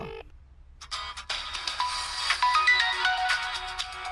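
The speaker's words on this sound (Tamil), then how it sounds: "கால் பண்ணிட்டான் அவன்" A mobile phone ringtone plays after a brief quiet start, a bright looping electronic melody ringing steadily and fairly close, with no one talking.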